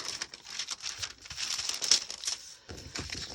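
Tracing paper crinkles and rustles as it is handled for a Christmas journal, giving close, irregular crackling bursts with short gaps between them and no talking.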